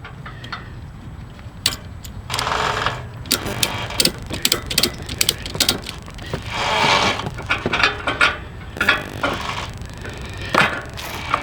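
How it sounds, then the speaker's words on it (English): Ratchet strap being cranked tight to secure a motorbike on a ramp-and-rack motorcycle carrier, giving repeated sharp clicking bursts in uneven runs, close and fairly loud against outdoor background noise. "tighten it up, and then start ratcheting"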